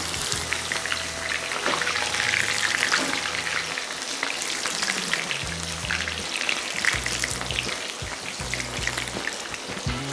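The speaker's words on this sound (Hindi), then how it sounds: "जितना चिकन मेरे पास है कोई 3 फेरे में मैं इसको फ्राई करूँगा ताकि आपस में चिपके नहीं" Batter-coated chicken pieces deep-fry in oil in a kadhai, a loud, dense bubbling sizzle like heavy rain that continues throughout, with low thumps beneath and no talk.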